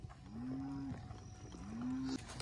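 Cattle being driven during a trail ride give two drawn-out moos, fairly close but soft, over a quiet outdoor background.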